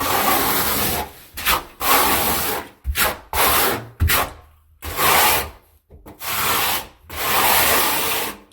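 Steel trowel raking and buttering thinset mortar into a cement board joint, a series of close, rough scraping strokes in rhythmic bursts with short pauses between them.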